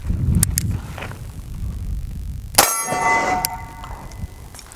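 A .45 ACP round from a Springfield 1911 pistol strikes a steel target with one sharp metallic clang that rings on and fades against faint outdoor wind.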